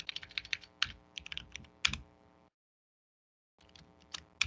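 Someone types on a computer keyboard entering a password, a quick burst of irregular key clicks and a heavier keystroke, then a pause of silence before a few more taps resume.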